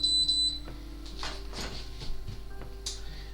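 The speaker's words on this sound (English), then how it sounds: "I noticed the beeping is quite loud" A loud electronic beeping rings out at the start, a steady high tone lasting about half a second. Faint clicks and ticks follow over a low background hum.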